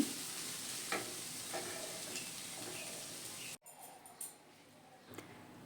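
Snake gourd and potato pieces frying in a pan with light sizzling, stirred a few times with soft scraping taps, the sizzle dropping briefly near the end.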